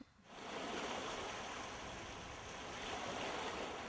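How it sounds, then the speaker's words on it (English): Steady broadband wash of rain falling outdoors, continuous and fairly loud throughout, with a soft hiss like surf or running water and no voices. "Listen to the rain."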